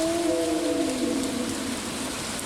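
Rainy-day ambience from Stardew Valley, a steady hiss of rainfall that stays even throughout, with a soft, low, wavering tone gliding downward near the start.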